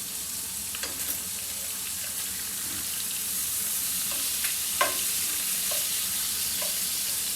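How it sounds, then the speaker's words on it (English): Kitchen faucet left running during home cooking, giving a steady, even hiss of flowing water throughout, with a few faint clinks and knocks on top and no talking. "The water's running, yes, I should have shut it."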